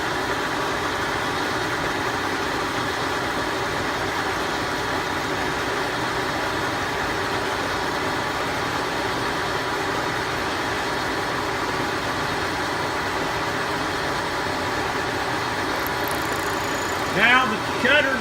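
A Brown & Sharpe 3A horizontal milling machine face mills a part with a carbide cutter, giving a steady, loud mechanical drone with an even hum under the table feed and a brief rattle near the end.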